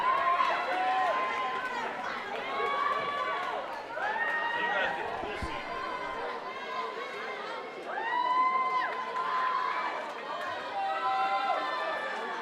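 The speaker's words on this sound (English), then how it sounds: "Crowd getting amped up" A crowd at a high-school swimming race, Liberty versus Memorial in 2018, cheers and shouts continuously, rising and falling in repeated excited swells of yelling voices, busy and reverberant as in an indoor natatorium.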